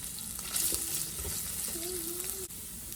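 Onion frying in a pan for breakfast fried rice, a soft steady sizzle with light stirring scrapes and a faint running-water sound in the background, fairly quiet throughout.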